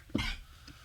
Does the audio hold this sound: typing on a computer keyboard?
no